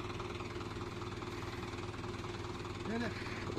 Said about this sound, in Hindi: रोक ले ट्रैक्टर